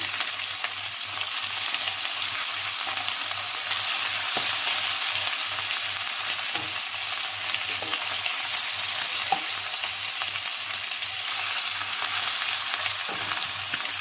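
Chicken pieces frying in a pan of oil after being turned, a dense, even sizzle that runs steadily and close throughout with faint occasional stirring knocks and no talking.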